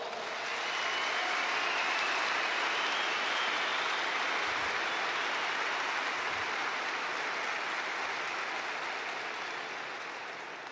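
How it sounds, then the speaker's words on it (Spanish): A crowd applauds in a dense, steady wash of clapping that swells quickly, holds for several seconds, then slowly tapers off. "Un aplauso para él, por favor."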